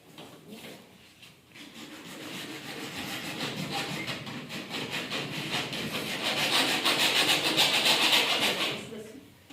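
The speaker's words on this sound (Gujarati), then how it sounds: "આ પાઇપને શું કરવાનું? અહીંયાથી થોડી કાપી દેવાની। કાપો।" A PVC pipe is cut with a saw in quick rhythmic back-and-forth strokes that build in loudness, then stop abruptly near the end.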